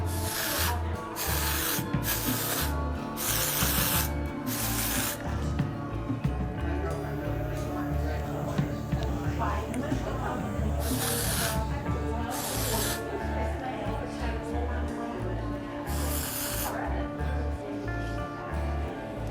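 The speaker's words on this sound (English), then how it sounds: "I like to use a texture spray" Repeated bursts of hair texture spray hissing in short aerosol blasts, several in quick succession, close and loud over a busy background.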